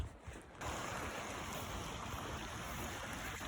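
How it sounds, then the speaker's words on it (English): A river rushes steadily at a crossing on the West Highland Way, where the bridge is out. The broad, constant roar of flowing water fills the whole stretch, with a brief dip at the very start. "So I've just come to this here river crossing."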